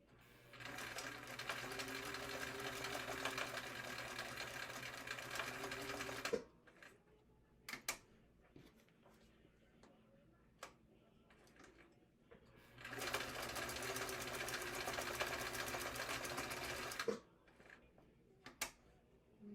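A vintage sewing machine chain-stitches fabric pieces in two loud, fast, whirring runs of several seconds each, with quieter clicks and handling knocks between them.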